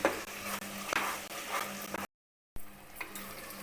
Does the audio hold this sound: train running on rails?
no